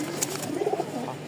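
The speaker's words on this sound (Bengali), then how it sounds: "মোট এখানে হচ্ছে 2 পেয়ার কবুতর।" Two pairs of pigeons at a pigeon seller in Mirpur-1, Dhaka, giving a short soft throaty coo close by, with a faint higher chirp just before it.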